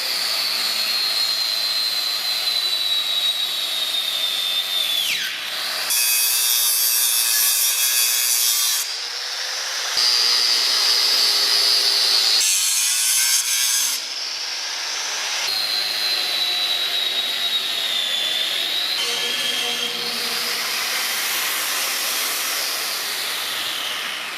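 A power tool grinds and cuts through a flat homemade steel hatch on a Ram tank, a loud, close, screeching whine rising and falling in long passes with brief pauses between cuts, no voices.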